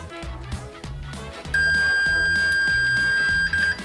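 A vintage Fluke 8024B multimeter gives a steady high continuity beep that starts partway through and holds for about two seconds, over a rhythmic low clicking background, with a brief stutter at the end.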